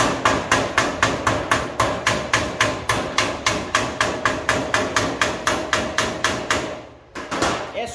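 Quick, steady hammer taps on thin welded sheet metal, struck beside the weld spots, ring out close and loud in a fast even rhythm with a brief pause near the end.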